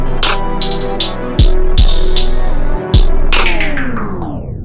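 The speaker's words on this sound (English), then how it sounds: "Now that halftime outro has a little tape stop, it's going to sound like this." A halftime hip-hop beat outro plays punchy kicks and bright percussive hits over a sustained synth bed, then a tape stop effect drags the whole mix downward in pitch and speed as it winds down.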